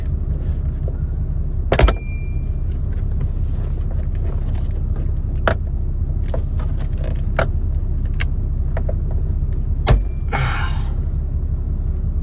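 Interior panel clips in a Mustang cabin are pulled down, giving a few sharp plastic snaps and pops over a steady low rumble, with smaller clicks and rattles scattered between.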